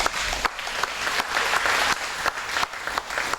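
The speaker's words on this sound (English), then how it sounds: "How about a big round of applause for Curtis and Matt?" An audience on the 1991 Disney-MGM Studios post-production tour show gives a short round of applause, with sharp, irregular claps nearby that rise and fall.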